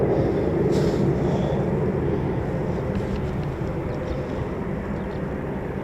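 Three Eurofighter Typhoon fighter jets of Razor flight, 11 Squadron, at RAF Coningsby, a loud continuous low engine roar, steady and fairly near, with no talk.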